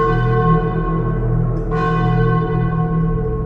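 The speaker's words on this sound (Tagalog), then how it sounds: "Doon ko narinig ang tunog ng kampana." A large church bell rings loudly and steadily with a long, humming resonance that fills the whole stretch.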